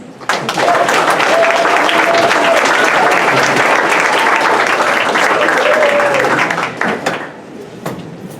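Sustained applause from the audience at a school end-of-year awards ceremony, loud and dense for several seconds before tapering off into scattered claps.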